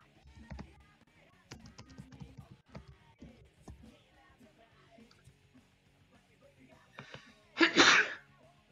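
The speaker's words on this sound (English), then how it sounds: "And I sneezed too." A single sharp sneeze bursts out near the end, louder than the faint scattered tapping and clicking before it in an otherwise quiet room.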